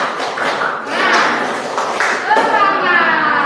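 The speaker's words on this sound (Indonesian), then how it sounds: "Tepuk semangatnya ayo, tepuk semangat." A class of children claps a rhythmic 'tepuk semangat' spirit clap in a classroom, with bright, dense clapping and voices chanting along throughout.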